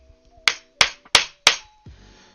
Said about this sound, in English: Probably should get my better hammer anyways.